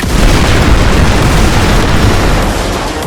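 A bomb explodes in GTA 5, giving a loud, dense roaring blast that fills the whole moment with a steady, heavy rumble and fades only slightly at the end.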